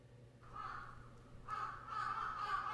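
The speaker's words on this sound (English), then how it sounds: "A crow sounded a shriek, letting the slumbering city know that morning had come." A crow caws at morning in two bursts of harsh calls, faint and distant over a low steady hum.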